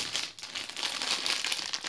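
Plastic shopping bag crinkled and crumpled up close, a continuous dense crackling rustle lasting about two seconds with a brief dip partway through.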